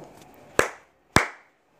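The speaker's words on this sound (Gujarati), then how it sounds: "કેટલી તાળી વાગી છોકરાઓ બે તાળી એટલે આ વાક્ય ખોટું છે" Two sharp, separate hand claps with a short pause between them, close and crisp, each trailing into a brief room echo, with no talk.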